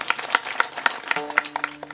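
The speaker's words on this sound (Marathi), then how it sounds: "टाळी वाजवा दादा करता." An audience claps along at a Marathi kirtan in a steady, rhythmic beat of sharp hand claps at close range, with a sustained musical tone entering partway through.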